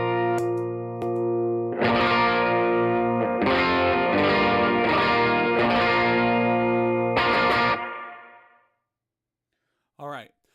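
Electric guitar through a Prince of Tone overdrive pedal plays several gritty, sustained chords with a crunchy edge, ringing out before fading to silence, followed by a brief voice.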